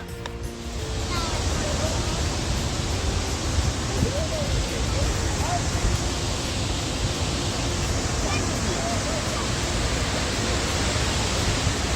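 Cane Creek Falls, a pair of waterfalls seen from a hiking overlook, gives a steady broadband roar of rushing water that holds at an even level for the whole stretch with no pauses.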